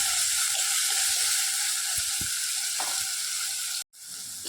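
Onion and tomato sauté with salt in a hot pan for a broad bean and jackfruit-seed stir-fry, giving a steady loud sizzle with faint stirring scrapes. The sound cuts out briefly near the end.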